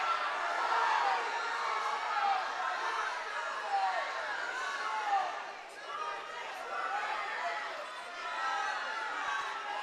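A wrestling tournament crowd cheers and chatters steadily throughout, a dense wash of voices with whoops and shouts, loud and continuous with small swells and dips.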